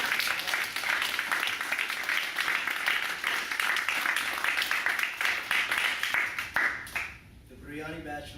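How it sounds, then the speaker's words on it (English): Audience applause congratulating a man on his recent engagement, dense steady clapping for about seven seconds that then fades out as a voice begins speaking. "I'd like to give somebody here a congratulatory applause for being recently engaged"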